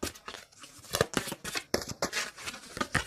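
A deck of tarot cards being shuffled up close: a rapid, papery riffling with crisp flicks and slaps over about three seconds, fairly loud and steady, with no speech.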